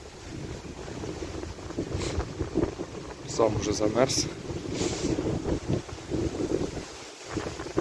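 Strong wind gusts roar across the microphone outdoors during cold-weather fishing for live bait, a steady buffeting that stays loud throughout while someone speaks over it.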